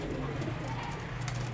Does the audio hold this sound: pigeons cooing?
yes